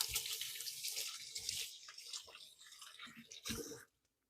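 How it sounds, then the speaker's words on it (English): Tap water runs steadily at close range as hands are rinsed in a kitchen while potatoes are prepared for the oven, a broad hiss that cuts off abruptly near the end. "I'm going to give my hands a quick rinse."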